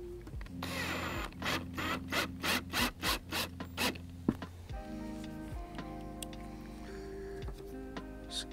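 Drywall screws are driven into a plastic kayak battery box, heard as a close, regular series of grinding, rasping pulses that stop abruptly, followed by lighter clicks and handling noise.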